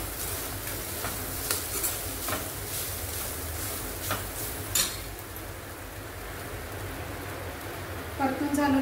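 Modak filling is sautéed in ghee with a soft continuous sizzle and periodic scraping strokes of a spatula in a pan, moderately close, and a short sharper clatter at the end.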